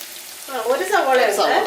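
A silver belly fish curry frying in a pan gives a brief sizzle under a voice speaking over it.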